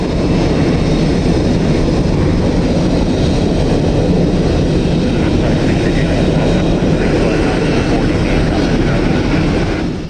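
An Air France airliner roars through a go-around, its jet engines giving a loud, continuous, unbroken rumble that stays steady for the whole stretch.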